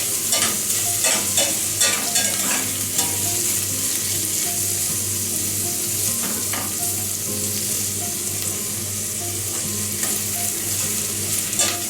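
Two medium onions, sliced, sauté in a pan, giving a steady close sizzle and frying crackle with occasional scraping stirs throughout, and no one speaking.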